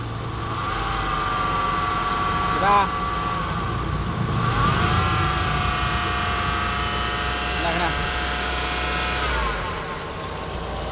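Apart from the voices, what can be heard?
noisy Sanden 507 AC compressor running in Nissan Sentra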